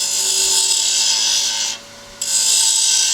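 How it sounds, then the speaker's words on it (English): Wood being sanded by hand with sandpaper, a steady close, loud rasping scrub that stops briefly for under a second, then resumes at full strength. "I'll literally clean all that up with sandpaper."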